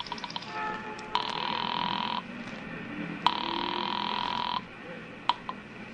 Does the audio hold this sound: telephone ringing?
yes